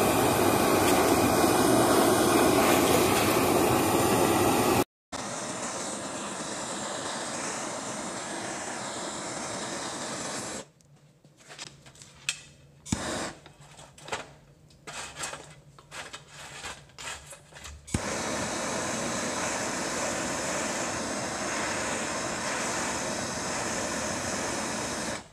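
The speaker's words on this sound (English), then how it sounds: "I'm gonna use this torch here and burn away" A torch burns insulation off the copper windings of a fan motor, a loud continuous roaring hiss that briefly cuts out, drops into quieter crackling and sputtering bursts, then resumes its steady roar.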